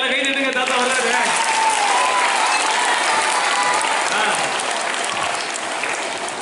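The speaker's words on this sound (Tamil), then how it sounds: "கைதட்டுங்க, எல்லாம் கைதட்டுங்க. தாத்தா வர்றாரு." Loud, continuous applause rises from an audience as Santa Claus arrives at a Christmas celebration, with crowd murmur and a little voice mixed into the clapping.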